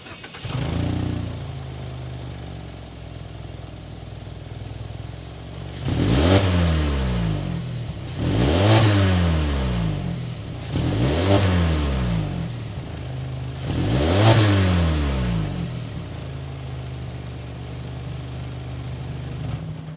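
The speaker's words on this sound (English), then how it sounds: "Let's hear that exhaust note." A 2022 Mazda CX-30's 2.5-liter inline four-cylinder engine idles, then revs four times in quick succession, each rev rising and falling sharply, the exhaust note loud and close before settling back to idle.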